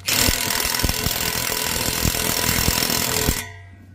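An impact wrench rattles loudly and continuously for over three seconds while tightening a bolt that cannot be held from the inside, then stops abruptly.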